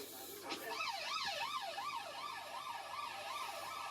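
Ambulance siren wailing at the scene of a shooting at a Belfast bookmakers, a rising and falling electronic tone cycling steadily, moderately distant over low background hiss.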